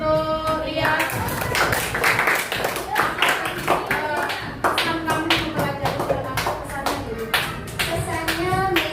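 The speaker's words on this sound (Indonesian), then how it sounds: "Kasih tepuk tangan untuk Lia." Audience clapping for a student named Lia at a school presentation, a steady run of loose hand claps throughout, with voices and children's chatter mixed in underneath.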